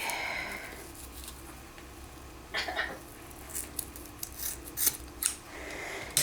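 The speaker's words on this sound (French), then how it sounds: "Je vais couper ceci." Pliers or cutters snipping through an electrical cable holding three wires, including a ground, while building a Christmas light controller; a few separate crisp cuts and small handling rustles, close and fairly quiet, with no talking.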